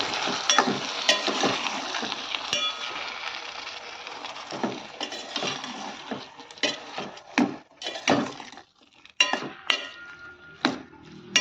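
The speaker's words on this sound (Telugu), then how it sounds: "టమోటాలు వేసుకొని ఒకసారి తిప్పుకోవాలి" Tomatoes are stirred in a pan with dry fish; a spoon scrapes and knocks against the pan in irregular bursts over a soft sizzle, close by and fading into sparse taps.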